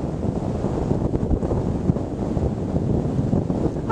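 Strong wind of about 60 km/h buffets a microphone outdoors, a steady loud rumbling roar with no pauses.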